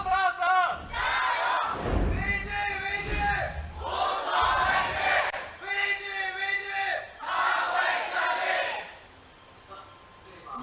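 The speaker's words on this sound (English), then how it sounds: "You just heard the crowd there going, Vici, Vici, have no fear." Esports arena crowd at an LPL League of Legends match chanting rhythmically for Vici Gaming, loud unison phrases repeated in waves before fading to quieter murmur at the end.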